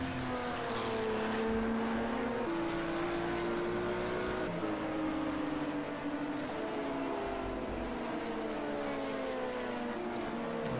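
A deep-growling LMP2 prototype race car in Project Cars 2 at Mugello, with other cars around it: a steady, loud engine drone whose pitch glides through gear shifts across the whole stretch, without talk.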